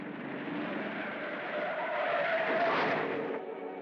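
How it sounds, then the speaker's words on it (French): A car skids as its brakes lock in a 1942 French film, a single sustained tire screech lasting a few seconds that rises slightly before cutting off. "c'est mes freins qui se sont bloqués"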